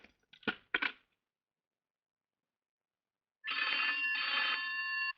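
A telephone rings during a phone call, a steady electronic ringing tone that starts after a few seconds of near silence and runs on for the rest of the clip, following a brief faint sound at the start.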